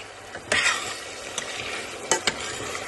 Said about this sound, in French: Maintenant, on va faire frire le mélange. On va bien le griller.